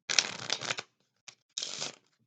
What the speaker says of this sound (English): I would have them go ahead and riffle shuffle both halves.